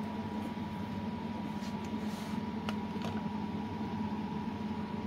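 A cooling fan inside a Ferroli dual induction cooktop, with its fan circuit modified to run faster to fight overheating, gives a steady airy whir with a faint tonal hum and occasional soft clicks, close and continuous without talk.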